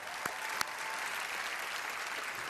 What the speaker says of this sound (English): Can I please have another round of applause